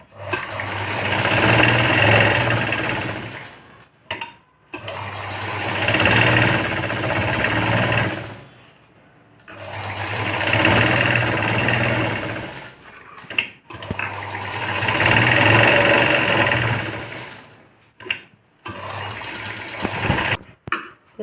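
A sewing machine stitches the lining of a sleeveless princess-cut blouse in four long, steady whirring runs with short quiet gaps between them, loud and close, with no talking.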